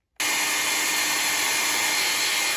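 A hair dryer switches on with a sudden start and then blows in a steady loud whoosh with a constant whine, drying paint on a mixed media floral artwork, and no one speaks.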